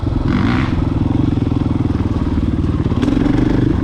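A motorcycle rides a wooded trail on the Pachaug southern loop, its engine droning loud and steady throughout with a rough, pulsing rumble and light clatter, swelling slightly near the end.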